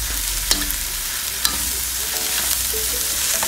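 Sea fish intestines stir-fried in a pan with sugar, salt and seasoning, giving a steady broadband sizzle with two sharp utensil clicks against the pan near the start and middle, close and fairly loud with no voices.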